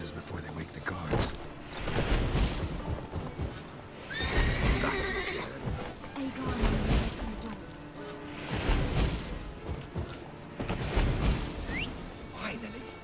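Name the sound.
horses neighing and hooves in The Witcher 3 video game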